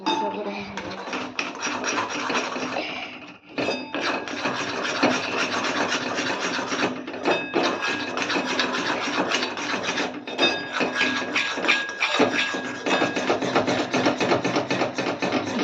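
Flour being stirred in a pan over very low heat while making chocolate, a steady scraping and rubbing of utensil against metal that runs almost nonstop with only brief pauses.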